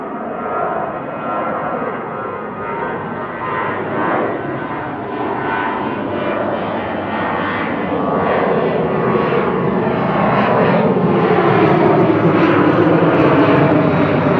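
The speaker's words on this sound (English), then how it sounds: "RUKJ flight 1900 heading back to Dublin here. 16-year-old 737-800." A sixteen-year-old Boeing 737-800 departs Manchester Airport for Dublin, its jet engines giving a sustained, rumbling roar that grows gradually louder over the span.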